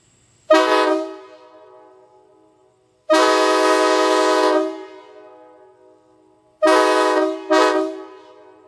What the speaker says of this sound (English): it's the K5LA with stainless steel diaphragms in it